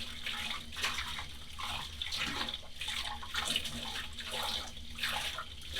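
Steady running water rinses a soapy paint-cleanup sponge, the stream broken by repeated squishing and splashing as the sponge is wrung under it, close and continuous for the whole stretch.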